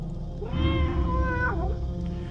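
A cat in the dark adventure game Tormentum: Dark Sorrow gives one long, wavering meow that rises and falls, loud and close, over a steady low background hum.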